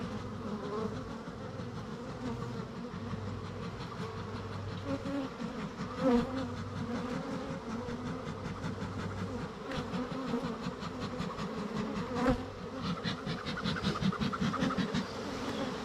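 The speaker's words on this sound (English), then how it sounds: "A lot of bees here." Dense, steady buzzing of many honey bees swarming close by at an open hive box, a constant drone with occasional louder passes near the mic.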